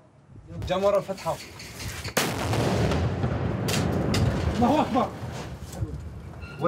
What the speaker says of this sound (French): D'abord la roquette, et après tu tires.